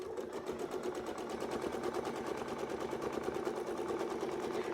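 A sewing machine stitching a quilt along Westalee wreath templates, a fast, even mechanical whirr and rattle running continuously and close up with no pauses.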